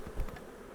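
Honey bees from an opened hive of some 20 to 30,000, buzzing in a brief close burst with a louder swell early on, then a steady low hum.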